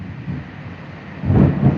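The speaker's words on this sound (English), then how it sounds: "No one's in the lightning storm, I promise." Low thunder rumbles from a rain and lightning storm, a brief deep roll that swells near the end, heard on its own.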